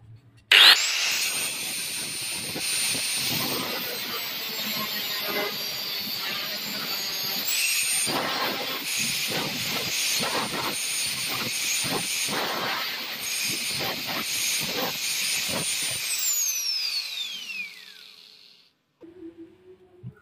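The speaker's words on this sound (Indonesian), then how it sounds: "Dan nanti ini kita gerinda, dan ini juga kita gerinda seperti pisau." A grinder shapes steel from old scissors into a knife blade. The shrill, whining grind runs loudly for about sixteen seconds with rough bursts, then winds down into near silence.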